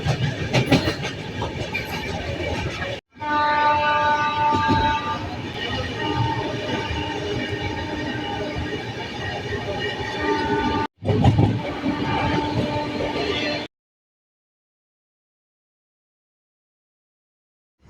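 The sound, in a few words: train moving on rails during journey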